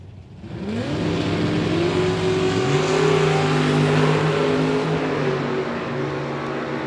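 An 82 Camaro and a Beretta launching side by side at a bracket drag race: engines build from a low rumble into a loud, sustained, rising roar that stays close and dense through the whole run.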